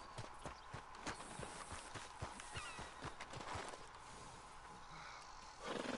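A horse in Red Dead Redemption 2 trots with rhythmic clip-clop hoofbeats, fairly close but quiet, with a snort or whinny and a rise of ambient noise at the end.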